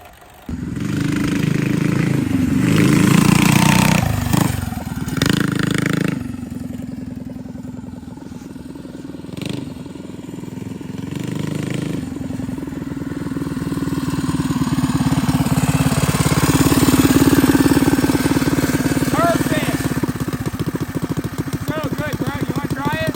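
Small mini dirt bike engine running with a rebuilt rear suspension, revving and idling at close range through a rough mid-pitched drone that rises and falls, with people talking over it.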